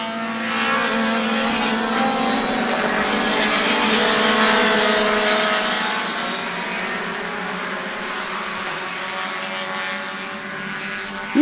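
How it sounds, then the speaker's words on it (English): Loud race cars roar past on the Sebring circuit, a sustained high engine howl that swells as they pass and then fades into a steady distant drone, with no talk. "Ooh, those are some loud race cars"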